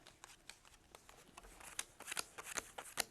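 Playing cards are dealt for a party game, a quick run of soft flicks and slaps, faint and close, speeding up into dense snaps toward the end with no talk.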